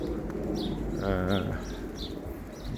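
Pigeons coo in low, throaty bursts over a steady background hum, with a clearer rolling coo in the middle.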